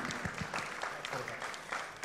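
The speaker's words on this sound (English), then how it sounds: "can we please have a round of applause for Vishwanathan Anand" An audience applauds for chess champion Vishwanathan Anand, a moderate burst of clapping heard from a distance with some crowd murmur.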